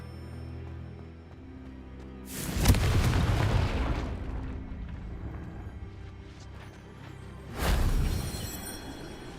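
Confringo blasting spell in the game Hogwarts Legacy, two heavy booming explosions several seconds apart, each a loud burst with a lingering rumbling tail, no talking.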